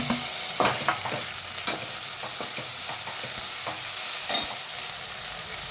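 Fenugreek leaves fry in a pan with chopped tomato just added, with a continuous sizzle under irregular clinks and scrapes of a spoon stirring.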